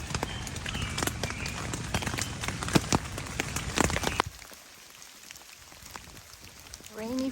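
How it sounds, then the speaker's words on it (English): Rain patters on a campsite on the Appalachian Trail on a foggy morning, dense drops tapping close by for a few seconds before it falls to a faint, quiet hush. "Rainy, foggy morning."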